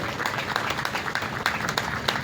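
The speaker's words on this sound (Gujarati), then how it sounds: "ખૂબ બધી તાળીઓનો ગરગડાટ થઈ જાય" A crowd applauds with many hands clapping together in a dense, steady patter, moderately loud and sustained, at a tree-planting event in Khatraj.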